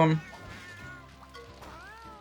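A cat meows in the video game Monster Hunter Portable 3rd, with one loud, short meow at the start followed by softer, drawn-out cat cries over a quiet game background.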